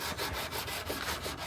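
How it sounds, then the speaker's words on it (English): Hand sanding with a block on the rusty steel body of a 1959 Ford Galaxie: a steady, close, raspy back-and-forth scrubbing in quick repeated strokes, heard alone with no talk. "Little sanding and block action."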